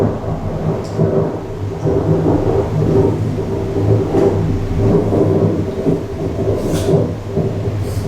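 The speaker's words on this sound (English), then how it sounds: "the ground shook with the crashing sounds of thunder" Thunder from a thunderstorm rumbles and crashes loudly and continuously, with deep rolling waves and occasional sharper cracks and no voices.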